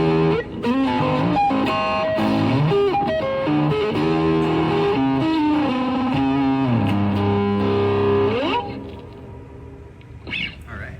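Electric guitar through an M-VAVE pedal set to a tone with a little reverb, playing a loud, continuous melodic riff with sliding notes that fades into a reverb tail at the end.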